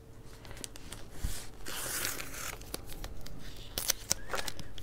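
Washi tape is torn and handled during a coloring-page craft session, with close crinkly tearing and rustling bursts and a few sharp clicks, fairly quiet and without talk.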